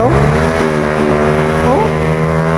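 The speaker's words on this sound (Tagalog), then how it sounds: "Napakaingay naman itong motor na to." Loud motorcycle engine on a night street close by, a harsh droning tone whose pitch shifts and rises as the rider revs and moves past.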